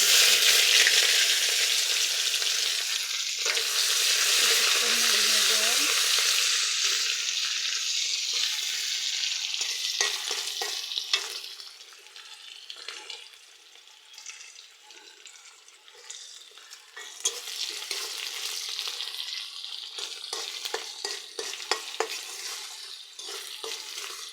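Garam masala, cardamom, cinnamon and chopped onion fry in hot oil in a wok, giving a loud, bright sizzle that fades to softer frying crackle with intermittent stirring scrapes.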